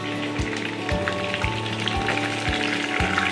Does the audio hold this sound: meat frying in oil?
yes